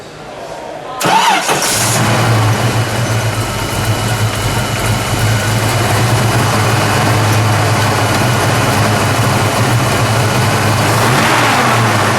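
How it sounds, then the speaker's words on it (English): A 1985 Ford Mustang GT 5.0-liter engine starts with a sharp burst, then settles into a loud, steady rumbling idle that continues close by. "Let's fire it up. We'll listen to it idle, and then we'll give it a good rev."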